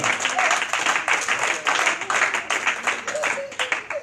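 A church congregation applauds during a service, lively uneven clapping from a crowd with a few voices and shouts mixed in, loud and sustained throughout.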